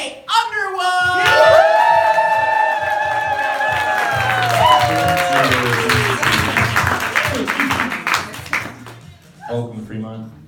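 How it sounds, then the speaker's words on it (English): An audience at a stand-up comedy theater breaks into sustained applause, clapping and cheering for a comedian, loud and crowded for about ten seconds before fading, with a voice heard over the start. "please give a round of applause for Jay Underwood!"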